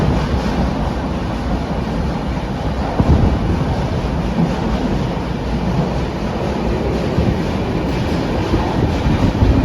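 A 12224 Duronto Express passenger train on the Ernakulam to Mumbai LTT route runs on the tracks in sleeper class. A steady, close rumble with faint rhythmic clickety-clack continues throughout, with no voices.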